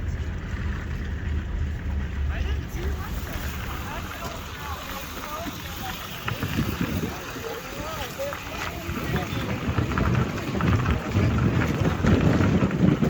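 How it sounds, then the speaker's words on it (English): Wind rumbles and buffets the microphone steadily, growing louder toward the end, while people talk faintly in the background. "Windy, windy day."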